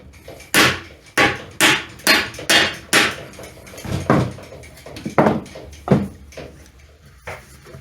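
Blows of a piece of wood knocking a part into place on a John Deere 400 industrial tractor: a quick series of about six sharp, loud, evenly spaced taps, followed by a few slower, heavier knocks, close up with no talk.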